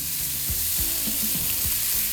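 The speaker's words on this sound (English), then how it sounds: "We're gonna start off by sauteing this bacon here." Bacon sizzles and crackles steadily in a hot sauté pan, with a few low scrapes or stirring knocks scattered through the dense, even frying hiss.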